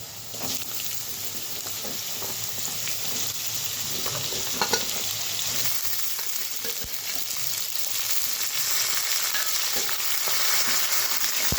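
Drumsticks added to frying potatoes in a pan, giving a loud continuous close sizzle with light stirring scrapes throughout, no talking.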